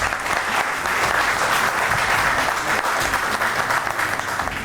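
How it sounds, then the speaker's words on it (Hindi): Audience at an Eid special mushaira clapping steadily and loudly for the full stretch, a dense sustained wash of applause with no pauses. "ढेर सारी तालियां"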